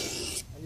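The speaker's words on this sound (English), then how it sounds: "You are putting, you are literally grinding a new edge." A blade is ground on a sharpening stone in one short, close rasping stroke that stops abruptly partway through.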